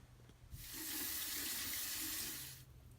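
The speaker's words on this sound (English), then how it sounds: "First, we're going to go wash our hands." Hands being washed under a running tap at a sink, a smooth hiss of water that starts abruptly, flows steadily for about two seconds and then cuts off, heard alone and fairly close.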